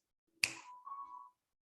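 Single sharp finger snap, close and crisp, followed by a short faint tonal ring in an otherwise quiet space.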